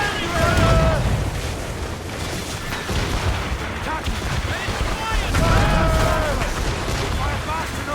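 Ship cannons fire in a naval battle in Assassin's Creed Rogue, with loud rumbling booms and a sustained roar of broadside fire at close range, while voices shout over the din.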